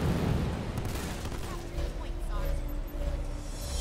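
Enemy gunfire rattles in Halo Wars 2 amid a continuous loud battle din, with rapid shots and booms blending into rumbling chaos and radio-style voices talking over it.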